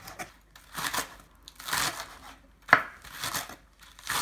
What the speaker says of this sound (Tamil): எல்லாமே நல்லா பொடியாக நறுக்கி வச்சுக்கோங்க.